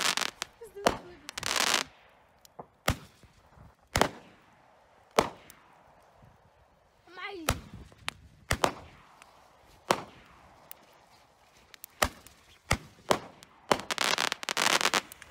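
Handheld roman candles fire a rapid run of sharp, loud pops and bursts, some overlapping in quick doubles, with crackling tails between shots and brief voices reacting outdoors.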